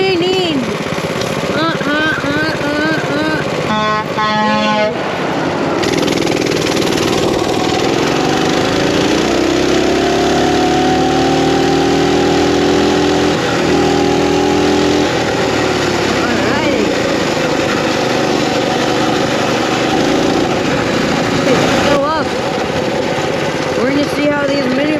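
Mini bike engines roar loudly and continuously outdoors at a water crossing, revving up and down in pitch, with shouting voices heard over the engine noise at times.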